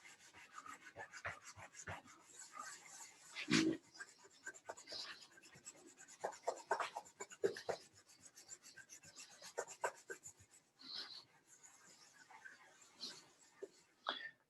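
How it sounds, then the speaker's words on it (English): The side of a charcoal stick is drawn lightly across drawing paper for a still life, giving soft, close raspy rubbing strokes in uneven bursts with small pauses between them. "I'm just barely moving the actual charcoal onto that surface."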